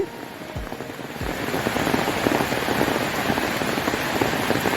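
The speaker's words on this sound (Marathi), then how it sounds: "पाऊस किती पडतोय मुसळधार पाऊस" A steady, dense roar of heavy monsoon rain pouring down in Konkan, Ratnagiri district, loud and constant throughout, with scattered drops spattering on surfaces.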